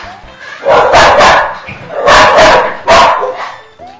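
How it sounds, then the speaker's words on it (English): A dog barks loudly and close by in three or four sharp bursts, two quick yips followed by a pause and then a further pair, with little else behind them. "Sorry about the dog barking."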